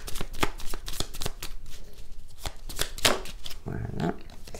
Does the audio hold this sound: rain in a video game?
no